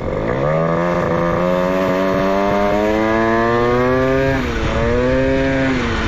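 A motorcycle engine with a freshly serviced clutch and an aftermarket exhaust revs loudly and steadily up close, its pitch climbing and wavering in sustained surges before briefly dipping and rising again.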